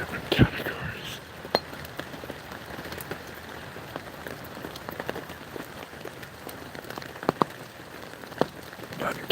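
Steady rain falls during a North Carolina rainstorm, a soft continuous patter on surfaces with scattered sharper drip ticks and occasional louder taps over a quiet, even background.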